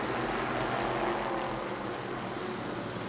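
Race cars surging away at the start of a Sunbelt Series feature at New Smyrna, a loud continuous engine roar filling the whole moment without pause, no speech.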